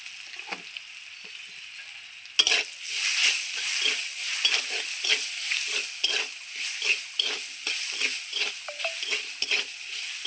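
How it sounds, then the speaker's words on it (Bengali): Raw mango pieces and green chilies fry in a pan with a steady bright sizzle, and a spatula scrapes and stirs in a quick repeated rhythm, close and loud with no voices. "আমার আমটাও ভাজা হয়ে গেছে, খুব সুন্দর, লঙ্কাও ভাজা হয়েছে"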